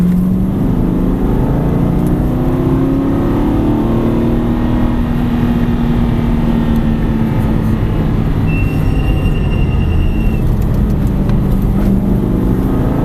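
A car accelerates, heard from inside as a loud, steady engine and road roar with a rising engine tone that climbs over several seconds; no one speaks.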